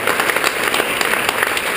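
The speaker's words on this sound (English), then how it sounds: "So let's give them another round of applause." Applause from an audience at a Virginia jobs announcement event, a dense steady patter of clapping throughout, moderately loud with no speech.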